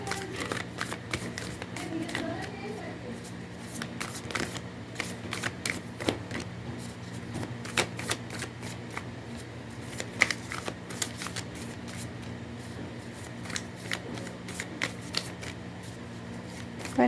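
Tarot cards are shuffled continuously up close, a steady stream of crisp riffling and flicking card sounds with faint murmured speech now and then.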